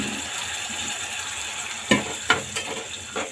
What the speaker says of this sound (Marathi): ही शिजवलेली डाळ टाकून घेऊया।